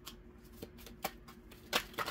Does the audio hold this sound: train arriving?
no